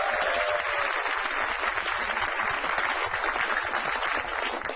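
Audience applause at a Metro TV stand-up comedy show, a dense steady wash of clapping that carries through the whole stretch with a faint voice underneath.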